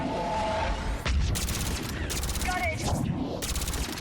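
Mass Effect 3 video game combat gunfire: rapid bursts of shots and sharp cracks, loud and close, with a voice talking over the start.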